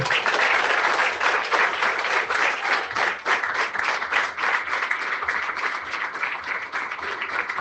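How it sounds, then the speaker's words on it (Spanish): A church congregation breaks into loud, sustained applause, a dense wash of clapping that holds steady from start to finish with no one speaking over it. "Un fuerte aplauso para Jesús."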